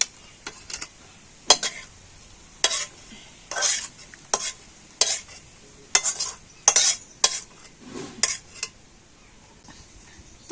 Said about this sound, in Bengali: তবে সব সাবুদানা একেবারে হয়নি, তো দুবার ধরে এইভাবে করে সাবুদানাকে ছেঁকে নেব।